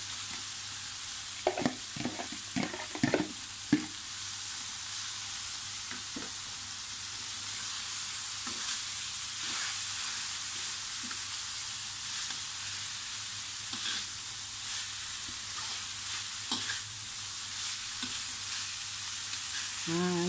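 Chopped and grated vegetables are stir-fried in a wok for spicy tofu under a constant soft sizzle. A quick cluster of spatula clacks comes early, then occasional scrapes and taps follow.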